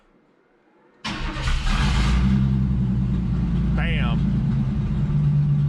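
After a quiet moment, a car engine abruptly fires up with a loud roar and settles into a steady, rumbling idle up close. A man briefly exclaims over it.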